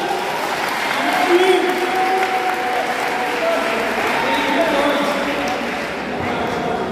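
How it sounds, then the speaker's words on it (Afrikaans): Audience applause at a community cup jersey handover ceremony, sustained steady clapping from a crowd that stays loud for several seconds, with voices mixed in. "Gee nog vir lekker hande klap julle."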